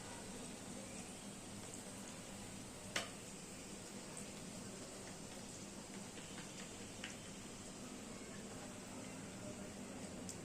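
Dal puri deep-frying in oil that is not very hot, giving a steady low hiss and sizzle throughout with one brief sharp pop early on and a faint tick later, no talking.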